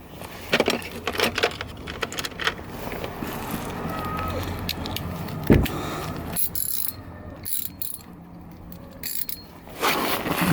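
Ratchet wrench working on the exhaust front pipe bolts of a Fiat Punto Grande, giving short clicking and creaking bursts through the clip, close and moderately loud, with a sharp knock midway.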